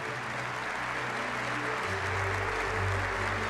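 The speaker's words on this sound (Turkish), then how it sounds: "tüm akademisyenlerimizi tebrik ederek kuvvetli bir alkış rica edebilir miyiz lütfen" Audience applause for academics at a university academic-year opening ceremony in Turkey: a continuous, fairly distant wash of clapping with a low hum beneath, steady throughout.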